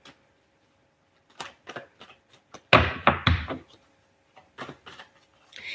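A tarot deck is shuffled close up in a quiet room, with scattered soft taps and card slaps building to one dense riffling burst, then a few more light taps.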